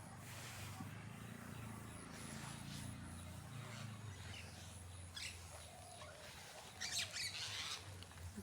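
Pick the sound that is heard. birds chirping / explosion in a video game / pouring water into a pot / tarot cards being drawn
birds chirping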